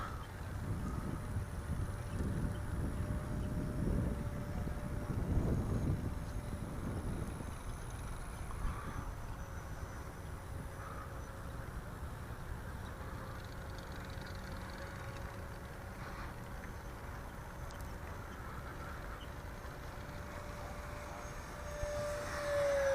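An eFlite F-15 Eagle 64mm electric ducted-fan RC jet flies after a bounce-hop takeoff, giving a steady whooshing drone that swells and passes, with wind noise on the microphone throughout.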